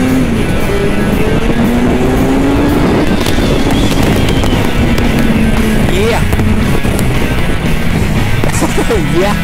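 A Kawasaki Ninja 1000 motorbike on the road from Pune to Karjat gives a loud, continuous engine drone with shifting pitch and heavy wind buffeting, and faint traffic sounds pass in the background.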